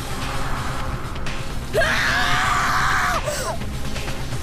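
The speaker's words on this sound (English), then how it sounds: "A scream came hurtling from my mouth, entirely on its own will." A character's scream in the Danganronpa video game, a loud, sustained, high-pitched cry lasting just over a second that rises out of steady background music and then cuts off.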